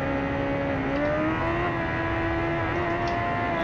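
A 2015 Kawasaki Ninja ZX10R with a stock exhaust, its engine held at a steady high rev during a wheelie attempt in the Ride 2 racing game, a continuous loud droning whine that rises slightly in pitch.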